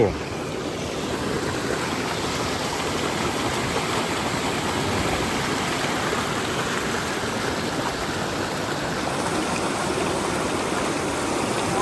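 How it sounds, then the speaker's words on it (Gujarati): Floodwater after about eight inches of heavy rain in Mehsana district rushes over broken village barriers, a close, steady, broadband roar of churning water that holds level throughout. "જો એ બારીઓ ઉપર અત્યારે આટલું પાણી"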